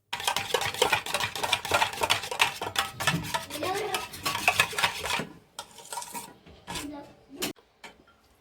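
A spoon stirs yogurt with tahini, lemon and salt in a bowl, with brisk repeated scraping and clinking against the bowl for several seconds before quieter, sparser taps.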